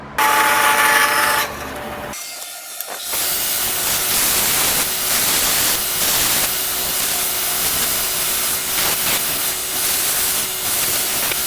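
A power tool trims a Purple Heart wood wedge for a Tasmanian-pattern axe: a loud, sustained hissing grind that briefly cuts out, then resumes steadily for several seconds.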